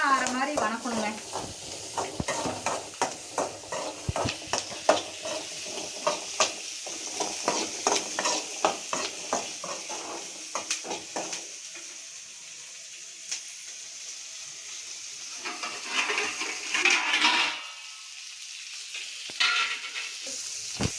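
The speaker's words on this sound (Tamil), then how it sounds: "பாருங்கள் நல்லா வறுத்துட்டு இருக்க பார்த்தீங்களா, நல்லா சூடாகிட்டு இருக்கு வெங்காயம்" Small onions frying in a little oil in a kadai, a soft sizzle broken by frequent scraping and stirring clatter from a spoon against the pan, with quieter stretches and a brief watery splash near the end.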